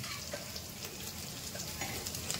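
Chili pieces sautéing with ginger paste in a pan for aloo puri, a dense steady sizzle with light crackles, close and continuous.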